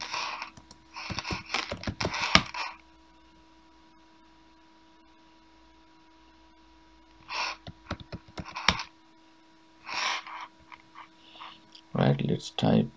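Quick bursts of typing on a computer keyboard, entering commands in Kali Linux under Windows 10, with clustered key clicks separated by quiet pauses and a steady faint hum underneath.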